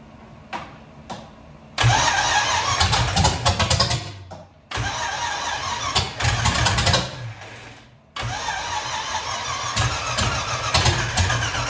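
A BMW engine in a project car with the ABS pump being deleted cranks and catches, revving up loudly and close by, then cuts out and restarts twice more in rough, surging bursts.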